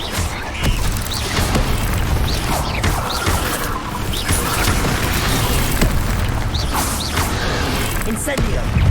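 Incendio fire spells blasting in Hogwarts Legacy, loud repeated bursts and crackling booms over busy combat noise, several blasts in quick succession with shouting voices mixed in.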